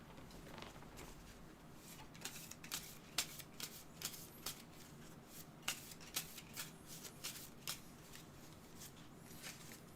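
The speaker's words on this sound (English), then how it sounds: "Just a quick shuffle" A deck of game cards for the Marvel Champions card game being shuffled by hand, with quick repeated riffling and snapping bursts at close range and no talking.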